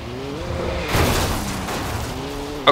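Car in the video game Alan Wake, an engine drone rising and falling with a heavy thud and rushing impact noise partway through, then the engine whine returning and a sharp knock at the end.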